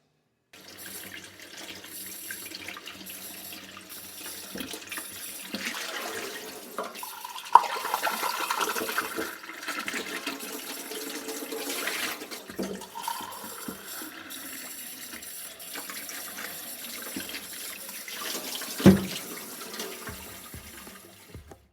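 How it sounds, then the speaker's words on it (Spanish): A stream of tap water runs over a gourd mate cup to rinse it, a long, steady splashing flow into a sink with a few clunks and knocks along the way and no talk. "Solamente como viste, el chorro de agua. Enjuagalo, lo tirás y después lo dejas secar"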